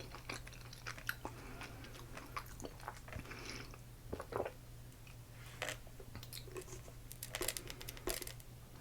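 Someone chewing sushi up close, with soft wet bites and crunchy mouth sounds recurring irregularly over a quiet, low hum, no talking.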